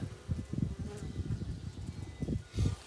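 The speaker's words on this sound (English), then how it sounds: "So here's my last hive. That again, I have new queen in, and these bees are really very docile as well." Docile honey bees, headed by a new queen, hum around a backyard hive during hive splitting. The low buzzing is faint and swells in uneven bursts, with one louder pass near the end.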